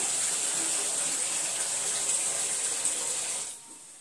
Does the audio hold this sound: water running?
yes